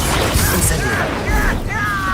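Fire spell being cast in Hogwarts Legacy, a burst of whooshing flame and crackle amid a busy, continuous wash of combat effects and magical tones, loud and up close with no pause.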